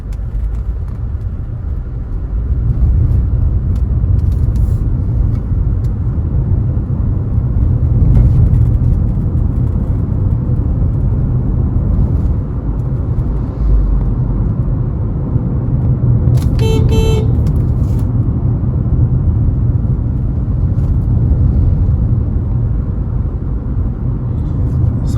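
A car crossing a bumpy road toward Flat Bridge in Jamaica gives a loud, steady low engine and road rumble throughout, with brief higher clatters over the bumps and occasional faint talk inside.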